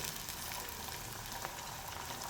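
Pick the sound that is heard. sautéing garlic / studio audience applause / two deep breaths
sautéing garlic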